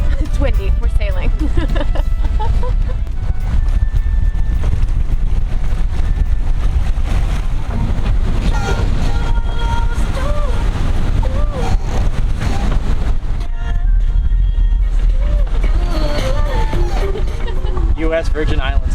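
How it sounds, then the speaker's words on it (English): Heavy wind buffeting a microphone while sailing from the British to the US Virgin Islands, a loud continuous rumbling roar with a voice talking over it. "Excuse me, it's windy. We're sailing."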